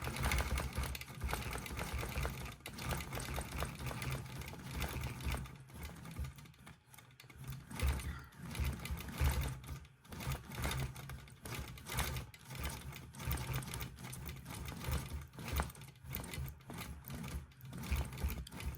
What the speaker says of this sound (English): I'm going to go back over here and finish the rest of the cross stitching on the top